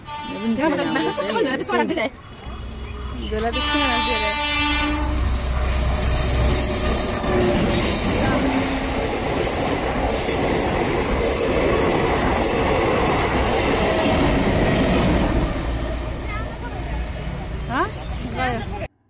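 A train rumbles steadily past a busy railway crossing at Panitanki, loud and close for most of the stretch, with wheels clattering on the rails and people talking nearby before it fades at the end.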